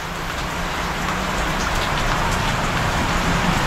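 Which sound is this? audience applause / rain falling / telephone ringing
rain falling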